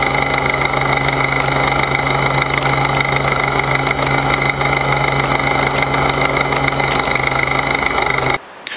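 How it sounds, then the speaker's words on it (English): A Toro Turfmaster mower engine runs steadily at close range while a loose belt tensioner pulley slaps with rapid, constant ticking, then the sound cuts off abruptly near the end. "that thing just slaps around and it makes this annoying ticking noise"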